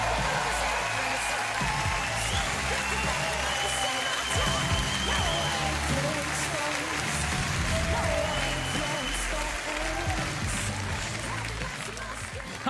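Audience at a Swiss Eurovision 2018 selection show applauds in a steady, dense wash of clapping with some cheering that carries on loudly for over ten seconds, tapering slightly at the end.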